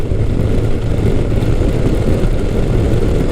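A Kawasaki Concours ZG1000 (GTR1000) motorcycle engine drones steadily and loudly while riding, a dense continuous roar with wind rush and no gaps.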